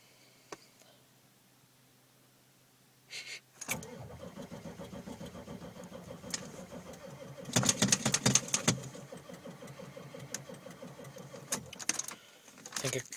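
A 1995 Ford F-350 Power Stroke diesel cranks for a few seconds, then catches and runs with a loud, rough, steady clatter that surges at times before cutting off near the end.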